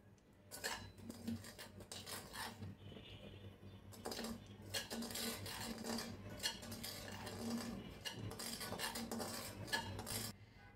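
Semolina is dry-fried in a pan for sooji halwa while a spoon stirs it. Quiet, repeated scraping and clinking of metal on the pan come in uneven bursts.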